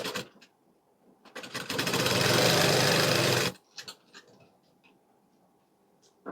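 Sewing machine stitching a folded end of a skirt belt, one sustained loud whirring run of about two seconds between quieter handling clicks and rustles.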